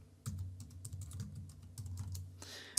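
Quick, light keystrokes on a computer keyboard patter close by in a steady run, ending with a slightly louder clack.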